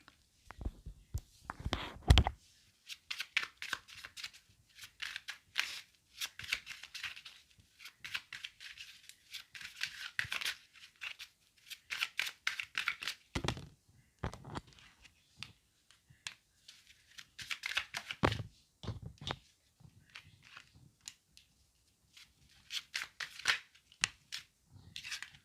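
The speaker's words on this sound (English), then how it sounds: "Let me shuffle real quick." Cards are shuffled by hand in repeated bursts of soft rapid flicking and rustling, with brief pauses between rounds, close and fairly quiet.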